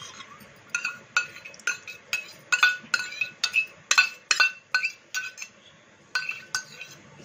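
Yogurt being stirred into Hyderabadi dum biryani in a pot, heard as a rhythmic series of close metal spoon clinks and scrapes against the pot, about a dozen strokes, with no talk.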